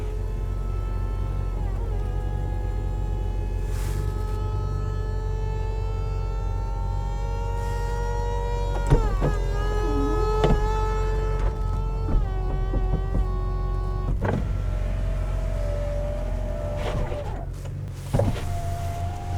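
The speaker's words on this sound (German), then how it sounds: "Machen wir jetzt mal die Dachentriegelung für euch." The retractable hardtop of a 2018 Ferrari 488 Spider 70th Anniversary opens with a steady electric motor whine that shifts pitch in stages, with mechanical clicks and clunks along the way, recorded close up.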